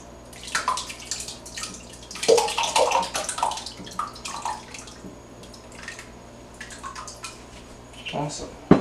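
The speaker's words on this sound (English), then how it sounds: "we are going to pour the curdled milk" Curdled raw milk is poured through a strainer for cheesemaking, giving uneven splashing and trickling bursts with a few drips between them, while a person talks nearby.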